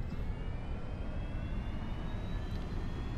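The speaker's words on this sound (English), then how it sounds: "We are ready for our takeoff roll. So let's advance the power." Boeing 737-800 jet engines spooling up for the takeoff roll in X-Plane 11, a steady broadband roar with faint rising whine tones, continuous and moderately loud with no voices.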